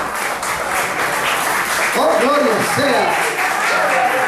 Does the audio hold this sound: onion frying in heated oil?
no